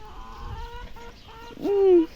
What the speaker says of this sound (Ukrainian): Курка сокоче.